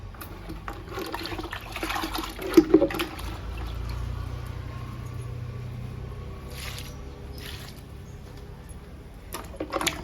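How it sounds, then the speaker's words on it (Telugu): Homemade liquid fertilizer made from leaves is poured onto indoor potted plants such as sabja, croton, jade and ZZ, giving quiet, intermittent trickling and splashing with soft handling noises. "ఈ నాలుగు మొక్కలకి లిక్విడ్ ఇద్దాము"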